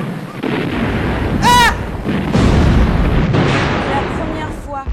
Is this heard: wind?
no